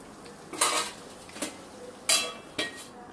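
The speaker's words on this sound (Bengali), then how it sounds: "তো একটু ডালটা নাড়িয়ে নিয়ে এবার ঢাকা দিয়ে দেব" A utensil stirs fish-head moong dal in a cooking pot, striking the metal four times in separate, close, ringing clinks over a quiet background.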